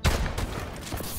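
Pistol fire in the shooter game Call of Duty: Advanced Warfare, with a quick cluster of sharp cracks in just over a second, close and punchy.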